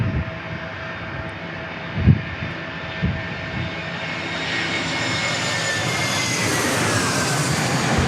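An Airbus A321 jet arriving at San Diego International Airport makes a steady engine roar that swells gradually louder toward the end, with a few low thumps early on.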